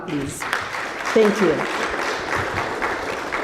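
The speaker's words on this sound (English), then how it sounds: "A round of applause for her" Audience applause at an African curriculum conference, a short, moderate round of clapping from a seated crowd, with a speaker talking briefly over it.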